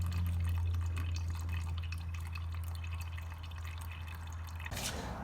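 Clutch fluid from a Porsche ZF PDK transmission pan dribbles steadily through a small hose, a continuous trickling drip over a low hum, ending with a brief knock.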